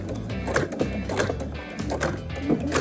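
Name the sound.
sewing machine stitching rope into a bowl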